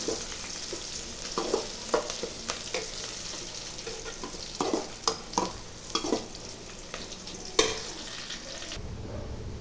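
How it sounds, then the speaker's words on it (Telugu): Onions fry in hot oil in a pan with a steady close sizzle, punctuated by irregular scrapes and clinks of a spatula stirring, with no voices. "ఆనియన్స్ బాగా వేగాలండి"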